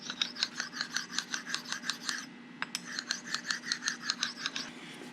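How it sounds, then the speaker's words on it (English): Sharpening stones rubbed back and forth over the surface of a horizontal mill, a steady rhythmic rasping of about a dozen strokes, a short pause, then another run of even strokes, close and clear with no talk. "Rub them together and go at it again."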